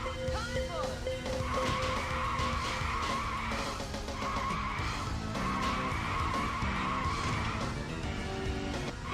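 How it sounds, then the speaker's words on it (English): Tires screech and skid repeatedly in the Virtual Racing video game, long squealing bursts over a constant engine drone from a race car, loud and continuous throughout. "the fucking tire screech noise"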